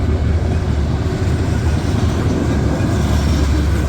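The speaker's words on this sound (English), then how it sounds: "There goes this unknown coal train eastbound." Loaded coal cars of a fast eastbound CSX freight led by a GE GEVO locomotive roll past close by at Woodbine, a steady loud rumble with rhythmic wheel clatter and no voices.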